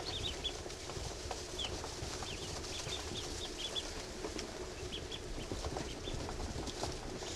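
Young ducklings and drakes in their enclosure give soft, scattered peeps and calls over a steady rustling farmyard background, with no talking.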